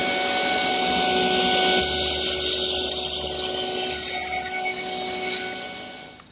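A table saw cuts a tenon on a narrow, tall wooden piece held in a tenoning jig: a steady motor whine rises into a harsh cutting rasp that lasts a few seconds, then eases off as the blade clears.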